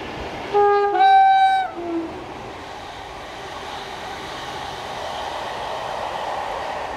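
Northern Rail Class 158 diesel train approaching Garsdale on the Carlisle to Leeds line sounds its two-tone horn twice, followed by a steady rising rumble of the train drawing closer.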